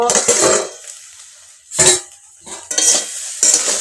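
A banana stem curry is stirred in a pan on the stove, giving bursts of scraping and clinking against the metal with a light sizzle underneath, in three or four distinct strokes separated by short pauses.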